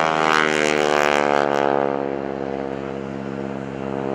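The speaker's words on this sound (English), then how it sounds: "You roll the airplane to the upright position." A propeller aerobatic airplane performs a Cuban 8 at the 2011 AirPower Over Hampton Roads airshow, its engine drone loud and steady with a shifting pitch as it passes, no voices.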